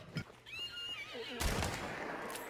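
Horse in the video game Hunt: Showdown giving a loud whinnying neigh, followed by a burst of rough noise and scattered sounds.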